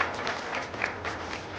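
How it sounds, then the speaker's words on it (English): Conference audience applauding with brief, moderately quiet clapping from a seated crowd, steady and without voices over it. "A round of applause from our kind audience."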